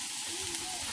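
A little oil sizzles steadily in a hot pan, giving a brief, even hiss with no break.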